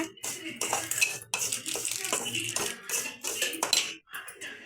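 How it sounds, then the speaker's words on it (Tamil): Sautéing in a pan on the stove: repeated close metallic scraping and clattering of a utensil against the pan in uneven bursts with short pauses. "நல்லா வதக்கிக்கோங்க"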